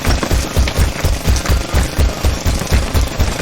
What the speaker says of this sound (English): The jackhammer's breaking up the concrete.